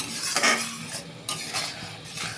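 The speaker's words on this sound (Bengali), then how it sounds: "ভালো করে কষিয়ে নিই মশলাটা" A spoon scrapes and stirs prawn masala as it fries in a pan, with a steady sizzle under uneven scraping strokes, close-up and with no voices.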